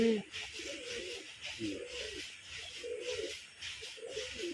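Soft, repeated cooing of Giribaz pigeons in a regular rhythm of low throaty calls, fairly close, over faint background hiss.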